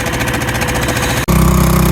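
A loud sailboat engine starts with a rough, pulsing throb, briefly cuts out, then picks up again at a heavier, steadier chug, very close.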